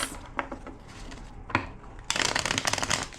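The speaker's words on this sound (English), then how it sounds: "2 more shuffles." A tarot deck is shuffled close up in a quiet room: scattered soft card taps, then a dense riffling burst of cards for the last second.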